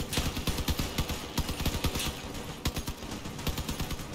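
Rapid bursts of gunfire from weapon-mounted vehicles in the Crossout video game, a dense rattling of repeated shots with steady rhythmic pulses, loud and continuous, with no voices.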